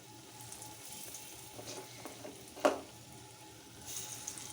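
Large lentil fritters (bora) frying in oil give a faint, soft bubbling sizzle, with one sharp clink partway through and a slight swell near the end.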